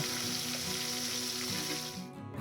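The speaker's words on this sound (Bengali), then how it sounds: "খুব বেশি কড়া ভাজবো না, ঠিক এই রকমই মিডিয়াম করে ভেজে তুলে নেব।" Pieces of katla fish fry in a pan of hot oil with a steady, dense sizzle that carries close and loud for nearly the whole stretch, then eases slightly at the very end.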